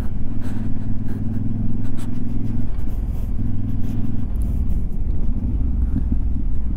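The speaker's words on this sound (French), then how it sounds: "Oh, petit retour à l'échappement." Voge DS800X Rally adventure motorcycle riding, a loud continuous engine rumble that rises and falls with throttle, with sharp crackling exhaust pops scattered over the top.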